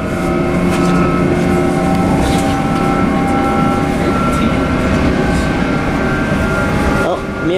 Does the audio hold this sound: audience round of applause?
no